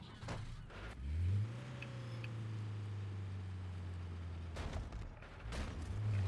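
In Just Cause 3, a car engine revs and holds a steady drone as it climbs a ramp onto a boat, moderately loud with brief surges at the start and end.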